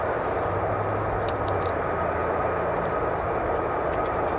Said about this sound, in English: The world's most advanced stealth 5th gen fighter